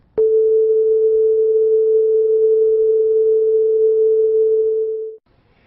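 A pure 440 Hz sine wave plays as a steady, unbroken tone for about five seconds, loud and alone, starting and stopping abruptly.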